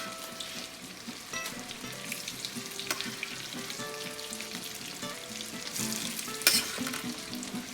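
Smashed potatoes frying in brown butter and olive oil in a hot pan over medium-high heat, a continuous close crackling sizzle with scattered pops and spatters, no voices.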